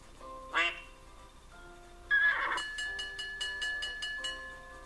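A video game duck quacks once and then again in a longer burst, followed by a rhythmic series of bright electronic tones, all at a moderate level.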